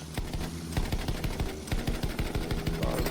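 Automatic weapons rattle in rapid, continuous bursts of gunfire during a Battlefield 1 match, loud and close, with no talking.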